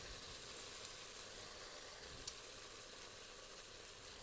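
Dried chilli, green chilli, cardamom, cinnamon and turmeric sizzle in hot oil in a village kitchen, a faint, steady hiss that carries on without a break.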